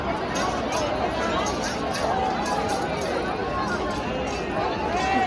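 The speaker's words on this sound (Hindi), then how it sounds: "इतनी भीड़।" A dense crowd bustles through the lanes of Vrindavan, a loud continuous babble of many overlapping voices close around, with footsteps and movement mixed in throughout.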